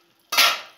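A lid settles onto a cooking pot with a single sharp metallic clatter that rings briefly and fades, close by in a quiet kitchen.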